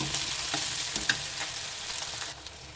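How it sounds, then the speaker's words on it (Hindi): Onions frying in a pan for a Rajasthani vegetable dish produce a steady, close sizzle with occasional stirring scrapes and light pops throughout, with no voice. "इसको थोड़ा सा ब्राउन होने तक पकाऊंगी, ज़्यादा बिल्कुल ऐसी नहीं कि बिल्कुल सुनहरी हो जाए, थोड़ी सी अधपकी हो जाए इसमें, तब तक इसको मैं फ्राई करती हूँ इसमें।"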